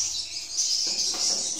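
Swiftlets chirp inside a three-storey swiftlet bird house, a dense high-pitched twittering from many birds that carries on without a break through the whole short stretch.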